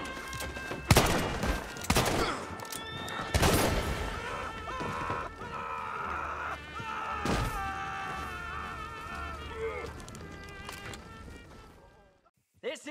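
Gunshots ring out in a Western film shootout, a few sharp loud cracks spaced through the scene with echoing tails, mixed with dramatic orchestral music and a brief spoken line.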